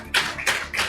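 Audience applause at a live motivational speech for CA Inter students, clapping that rises and falls in three short waves under a steady indoor hum, with no voices over it.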